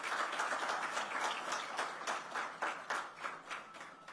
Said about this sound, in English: let's give a very warm round of applause for this